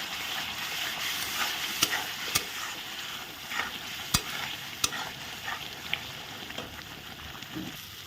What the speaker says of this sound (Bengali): দেখো এখন ভালো করে নেড়ে চেড়ে দেবো।